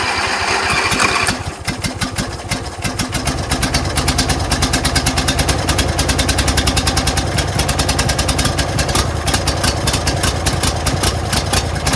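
A Briggs & Stratton 20 hp V-twin engine on a John Deere Z225 zero-turn mower runs on its own, a loud, close, steady idle with a rapid, even low throb for the whole stretch and no talk.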